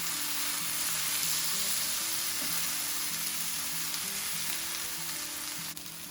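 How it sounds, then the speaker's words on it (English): Steaks for a country-style steak recipe brown in a frying pan, giving a loud, steady, close sizzle that runs unbroken for the whole stretch with no talking. "you just want to brown them on each side."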